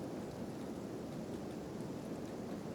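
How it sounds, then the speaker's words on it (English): Rain falls in the wetlands of a video game as a dense, even hiss of steady downpour, continuous and fairly soft, with no voices. "So, wetlands, it's always raining."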